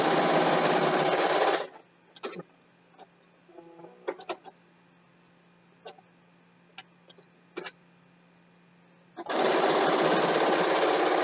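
A sewing machine stitches binding onto a quilt in two loud, steady whirring runs at the start and end, with quiet clicks and handling noises between them.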